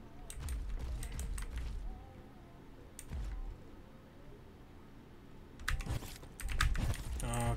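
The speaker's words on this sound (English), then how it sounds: "You guys might hear the keyboard though, I'm sorry." Intermittent bursts of computer keyboard typing during play of the game Dead Link, clustered clicks separated by quieter gaps and heaviest near the end, with a voice talking in between.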